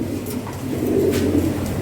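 Fancy pigeons, including Lahoria and Lakha breeds, coo in a low, steady murmur in a loft, with nearby birds rolling out soft, continuous calls.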